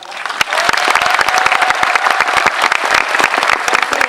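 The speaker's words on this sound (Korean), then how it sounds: "박수 한번 칠까요?" An audience at a film talk event applauds steadily, dense clapping filling the whole stretch at close range, with no pauses.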